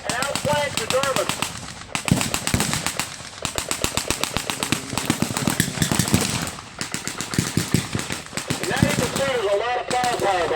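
Rapid bursts of .50 caliber machine gun fire from a half-track at a WWII battle re-enactment crack out repeatedly across the scene, loud and dense, mixed with other gunfire and a voice talking over it.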